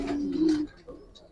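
A Giribaz pigeon at a pigeon farm gives a short, soft low coo, close and fairly quiet, followed by faint background rustle.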